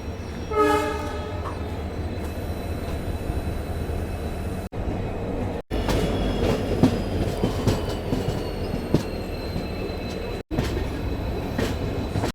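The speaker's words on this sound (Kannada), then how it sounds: "ಅದೇ ಈಗ WDP 4D ಮಸ್ತ್ ಆವಾಜ್ ಬರುತ್ತೆ ರೀ" A WDP 4D diesel locomotive hauls a Vistadome coach train out of Mangaluru Junction, sounding a horn blast at the start, then a loud continuous rumble with wheel squeal and rhythmic clatter over the rails.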